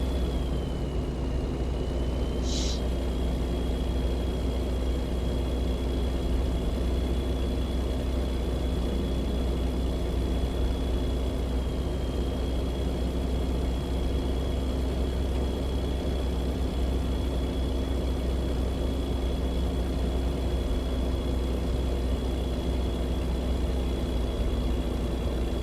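Heavy, continuous idle from a Chevy S10 truck's strong engine, a loud low rumble holding steady throughout with a thin whining tone riding on top.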